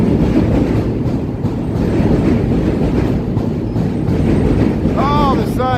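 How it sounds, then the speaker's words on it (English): Loud rumbling train passing close by on an elevated line in the Chicago Loop near the river, continuous heavy rolling and clatter with wind buffeting, ending in a squeal of wheels on rails. "There goes another train going through"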